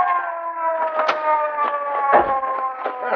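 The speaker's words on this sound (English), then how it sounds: "Casey, here comes a police car." A police car siren sounds as a radio drama effect, a steady wailing multi-tone whine held close and loud, with faint knocks and thumps beneath it.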